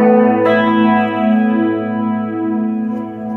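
Electric guitar run through a Strymon Zelzah phaser pedal, a sustained chord with a slow sweeping filter that swells and recedes in gentle waves, steady and fairly loud with no voices.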